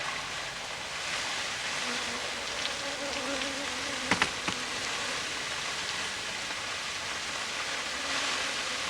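A swarm of so-called killer bees buzzes in a dense, steady hum that fills the air, constant and close, with a few faint clicks near the middle.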